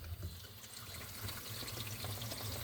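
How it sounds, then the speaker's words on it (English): Tap water runs steadily from a faucet under a sink during setup of a SimPure T2 600T reverse osmosis system, a continuous hissing rush with a low hum beneath, no talking. "So now I'm gonna turn my water on"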